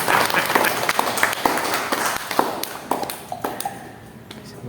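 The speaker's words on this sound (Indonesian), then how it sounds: "Tepuk tangan dulu." An audience at a committee evaluation meeting claps in a dense, uneven patter of hand claps that gradually thins out and softens toward the end.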